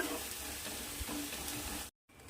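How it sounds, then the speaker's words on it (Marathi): Onion and spice masala sautéing on low heat in a pan, a steady soft sizzle with occasional stirring scrapes that cuts to near silence toward the end. "आता याला गॅस स्लो ठेवून छान याला असं परतून घ्यायचं आहे कलर चेंज होईपर्यंत"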